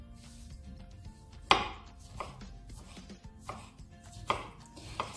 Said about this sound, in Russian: Мелко нарезаем цветную капусту и брокколи.